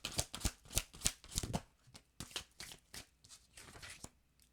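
A deck of tarot cards being shuffled by hand close up: a series of quick riffling bursts and crisp flicks, irregular but repeated, fairly quiet with no speech.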